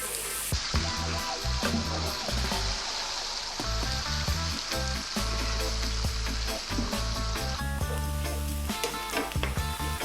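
Chopped onion and garlic frying in a pan for goat's cheese pasta, stirred constantly, giving a loud continuous sizzle with repeated scraping and knocking of the spoon throughout.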